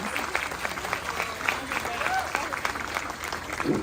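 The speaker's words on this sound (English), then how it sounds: "So big round of applause to you again." Audience applause at a city council recognition honoring a hero, sustained clapping from a room of people with voices murmuring and talking underneath throughout.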